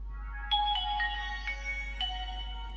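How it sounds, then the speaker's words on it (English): A Nokia N73 phone powering on plays its startup intro tune: a short, bright electronic melody of a few clear stepped notes, heard alone and close at moderate volume. "what you heard there is the famous Nokia intro tune"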